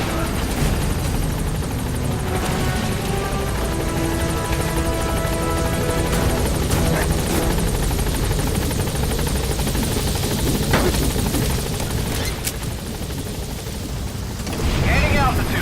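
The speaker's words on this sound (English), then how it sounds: "Support helicopter has arrived." A support helicopter arrives in the video game Metal Gear Solid V, its steady rotor and engine roar filling the scene loudly and continuously, with game effects layered over it.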